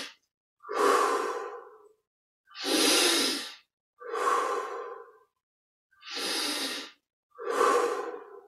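Deep, slow breaths during a guided meditation exercise, five long airy inhale-exhale cycles spaced about one and a half seconds apart, close and clear against silence.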